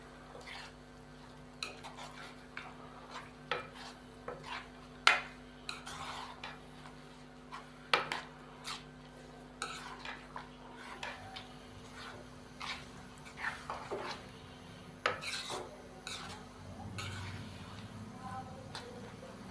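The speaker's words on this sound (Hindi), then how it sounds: "दाल शामिल करने के बाद नाज़रीन हम अच्छे से मिक्स कर देंगे दाल को।" Thick boiled dal being stirred into fried masala in a cooking pot, with a run of soft, irregular scraping and knocking strokes of a spoon against the metal over a steady low hum of the stove.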